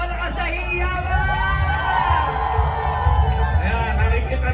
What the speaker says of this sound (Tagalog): Ayan ang ating Office of the Building Official, isang malakas na hiyawan!